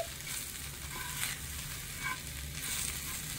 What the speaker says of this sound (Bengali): এখন রসুন আর লঙ্কাটাও খুব সুন্দরভাবে ভাজা ভাজা হয়ে গেছে।